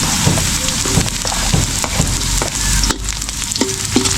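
Ginger frying in a pan, with a constant close sizzle and crackle and scattered light scrapes of stirring throughout.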